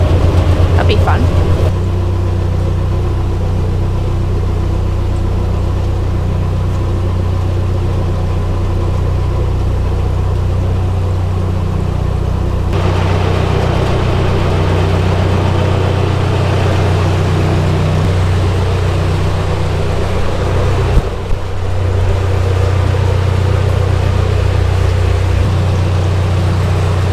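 A narrowboat's engine drones steadily as it runs through a short brick canal tunnel, a loud, constant low rumble that swells slightly when throttle is added partway through.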